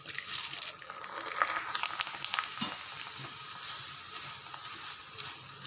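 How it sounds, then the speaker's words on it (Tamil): Corn kernels fry in hot oil in a home kitchen, giving a steady crackling sizzle with scattered pops and light stirring scrapes, with no talking. "சோளம் எடுத்துருக்கேன். அப்படியே கொஞ்சம் கொஞ்சமாக நம்ம எண்ணெயில் சேர்த்துடலாம்."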